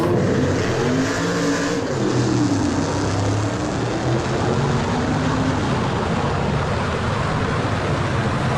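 A drag car launches hard from a standstill in a race against a GTR, its engine revving into a loud, continuous roar with rising and shifting tones that stays dense and powerful throughout.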